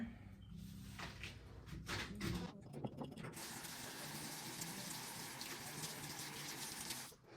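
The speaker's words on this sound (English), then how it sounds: "let me wash my hands" Hands are washed under a running tap in a home, with a steady splashing rush of water that starts after some faint handling noises and runs until it stops near the end.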